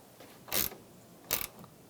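A bolt on a 2011-2018 Ram 1500 headlight assembly is tightened with a ratchet, giving two short, close mechanical clicking bursts about a second apart in a quiet setting.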